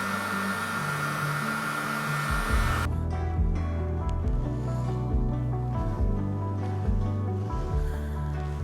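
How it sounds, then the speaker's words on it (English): A heat gun blows steadily on paint being smoothed and evened on a $7 Harbor Freight cowboy bed build, a loud continuous airy whir whose pitch shifts partway through and then holds alone. "We're gonna use a heat gun."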